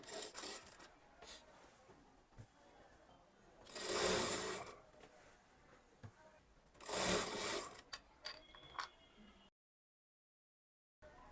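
A sewing machine stitches an Anarkali kurti in two short, quiet runs separated by pauses, with faint handling rustle between them.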